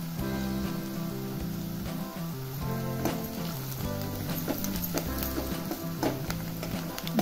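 Turmeric and onion frying in a pan over medium heat, a soft continuous sizzle with faint crackles and occasional stirring scrapes, quiet and close with no talk.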